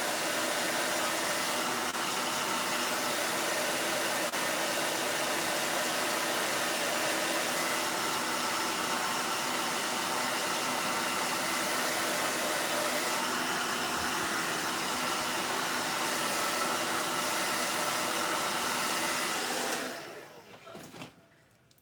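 A Dyson hair dryer blows on a cup with a loud, constant whooshing roar for about twenty seconds, then cuts off and fades abruptly near the end.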